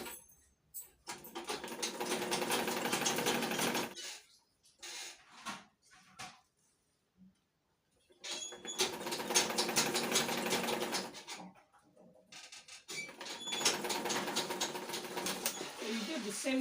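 A sewing machine stitches a wrap peplum blouse in three long, steady runs of rapid mechanical chatter, separated by short gaps with faint handling noises and a voice.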